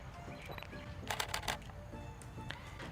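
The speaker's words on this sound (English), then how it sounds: "Let's click a picture now." A Canon camera fires a quick cluster of crisp mechanical shutter clicks near the middle, close and fairly soft against a quiet room background.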